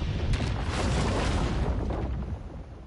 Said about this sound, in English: The Lazarus Pit was completely destroyed in the explosion.